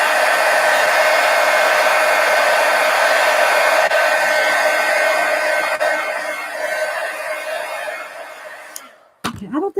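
A handheld dryer blows steadily and loudly at close range to dry purple tint on a dictionary page, a continuous rushing whoosh for about nine seconds before it cuts off with a couple of quick handling clatters.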